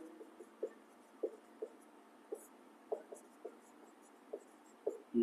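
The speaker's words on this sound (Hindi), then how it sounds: "तो यहां पर लिख लेते हैं" A marker or chalk taps and strokes across a board during a chemistry lesson, short scratchy strokes in an irregular rhythm, faint and close in a quiet room, with no talking.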